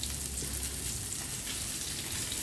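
Salmon frying in butter in a pan gives a steady, dense sizzle that carries evenly through the whole stretch, with no voices over it.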